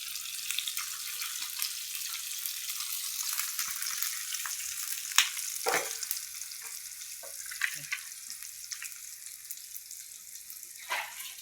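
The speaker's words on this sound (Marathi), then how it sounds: "हे आता मी मासे ठेवते" Fish pieces frying in a hot pan, a steady bright crackling sizzle with a few louder pops and spits scattered through, heard close up and alone without any speech.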